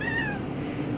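A cat riding in an RV lets out a single short, close meow over a steady low road rumble.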